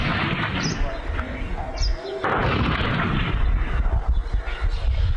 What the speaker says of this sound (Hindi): यह सुनिए आमने सामने की जो क्रॉस फायरिंग हो रही है,